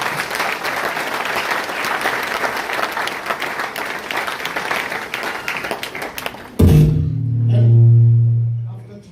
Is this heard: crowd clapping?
yes